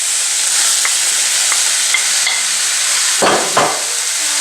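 Scallions, ginger and summer squash sizzle loudly in a hot pan under a constant hiss, broken by a couple of sharp scraping stirs near the end; no voices.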